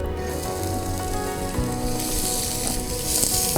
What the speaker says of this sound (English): We saute this in like medium to low heat